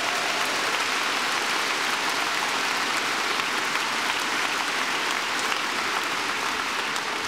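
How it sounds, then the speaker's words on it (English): A large commencement audience at a university graduation applauds steadily throughout, a dense, even wash of clapping with no voices standing out. "Let's give Subir Chowdhury one more big round of applause."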